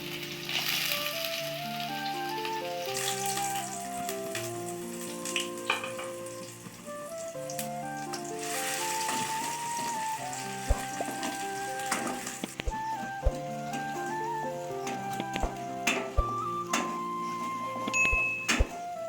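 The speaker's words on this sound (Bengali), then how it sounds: "এরপর কুচি করে রাখা পেঁয়াজগুলোকে দিয়ে দেবো কড়াইয়ের মধ্যে" Chopped onions fry in hot oil with cumin in a wok, giving a steady soft sizzle that runs under background music for the whole stretch, with occasional clicks of stirring.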